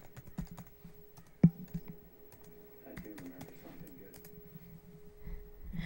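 Keys on a Mac computer keyboard are tapped in a quiet, irregular run of soft clicks for a password entry, close up with a faint background hum and no speech.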